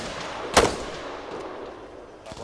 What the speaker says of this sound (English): Suppress fire on the windows